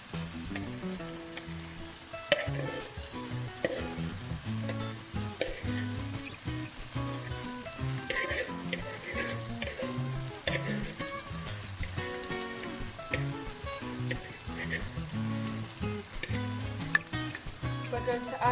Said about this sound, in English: We've been sauteing this for about 5 minutes now